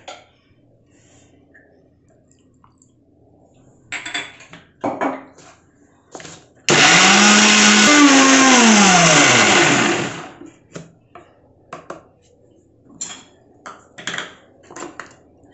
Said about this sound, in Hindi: अब हम इन सभी को एक जार में डालकर पीस लेंगे।